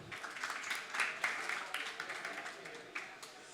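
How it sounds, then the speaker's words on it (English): A cross-sector roundtable audience on lower-emission logistics gives scattered, fairly quiet applause for a speaker, a thin patter of clapping with a few sharper claps standing out. "So give him an applause too."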